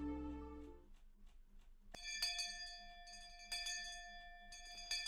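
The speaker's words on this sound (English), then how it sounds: "Just then, we heard a bell far away, marking the end of our lunch break." Bell chimes ringing in the Higurashi When They Cry video game, entering after a low opening and striking several times with long sustained metallic tones, moderately loud and clear with no talk.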